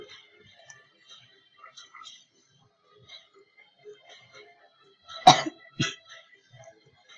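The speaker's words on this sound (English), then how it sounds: "now I'm like coughing everywhere" Two sharp coughs from a person with a cold, close to the microphone, the first louder and the second following about half a second later, with quiet background murmur before them.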